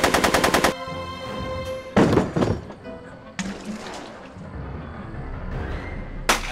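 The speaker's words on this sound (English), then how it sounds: "Are you shooting at me?" Gunfire in the Back to the Future video game comes as loud rapid bursts of shots with heavy thuds between them, near and punchy, with no talking.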